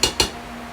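Two quick metallic clinks close together as a hot cooking pot is handled with a glove in a home kitchen, followed by quiet room tone.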